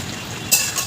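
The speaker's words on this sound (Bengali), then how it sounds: "ঢাকা চাপা খোলা হচ্ছে" A cooking pot lid lifts off with a short metallic clink and hiss against a low background hum.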